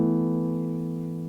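A short piano phrase from the right-hand verse part of a song, a few sustained notes ringing softly and fading slightly, with no talking.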